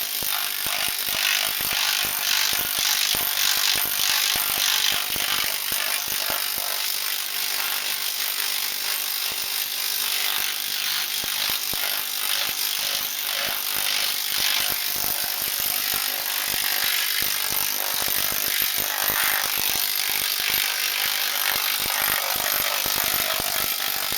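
A planishing machine hammer runs at about half throw, a fast steady mechanical hammering and rattling that stays loud and continuous throughout with no voices.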